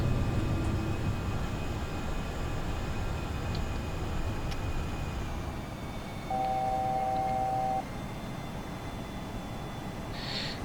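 Simulated engine drone of an Airbus A320 climbing out after a touch-and-go in a flight simulator, a steady broadband roar with faint tonal whines and a brief beeping chime partway through, no talking.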